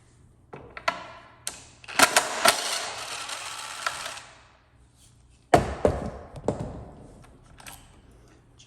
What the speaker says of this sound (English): And we'll remove the negative terminal bolt.